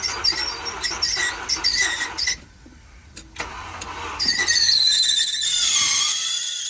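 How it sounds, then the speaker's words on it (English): A high-pitched belt squeal shrieks in bursts as a car engine cranks on a jump box and catches at a towing auction, then settles into a sustained loud squeal over the running engine. "you can hear the belt screaming"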